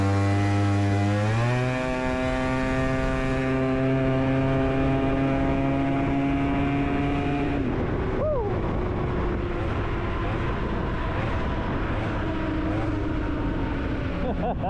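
Modified BWS 125cc scooter with a Malossi big bore kit and 22mm carb accelerating hard, its engine note climbing steeply in pitch, then holding a loud, buzzing high-revving whine close by.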